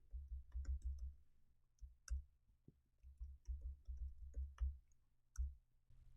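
Quiet computer mouse clicks and keyboard typing, a close, faint run of soft clicks in irregular rhythmic clusters with short pauses, with no talk.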